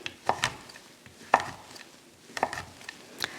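A knife chops a bar of dark chocolate into chunks on a board, with sharp, crisp strikes landing in small irregular clusters and short pauses between them, close and clear with no talking.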